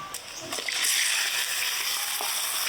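Chopped onions fry in a kadai with cumin, cardamom and cinnamon, producing a continuous soft sizzle and hiss. A few light clinks sound early, and the frying then holds steady at a moderate level.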